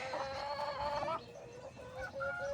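Hens clucking and calling close by, a few overlapping bird voices with drawn-out tonal squawks, no talking.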